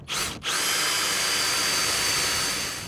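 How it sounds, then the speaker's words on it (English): A battery-powered drill runs close and loud, drilling out teak deck plugs on a sailboat, with a brief dip in the motor whine before a long, steady high-pitched run. "power drill like this, battery driven"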